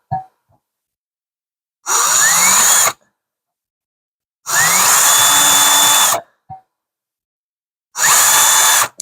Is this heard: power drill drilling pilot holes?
yes